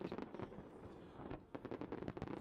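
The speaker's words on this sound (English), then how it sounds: "Well, check them fireworks out." Fireworks going off near a riverboat, a steady crackle of small bursts with a run of sharper, louder pops toward the end, heard from close by.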